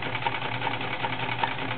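A Kenmore model 1211 convertible straight-and-zigzag sewing machine runs at a steady moderate pace, its motor humming with an even, repeating needle rhythm, close and alone.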